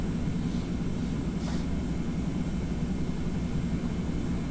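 Boeing 717 airliner engines in the Prepar3D flight simulator, lining up for takeoff: a steady, even engine roar and rush with no change in pitch, with no talk.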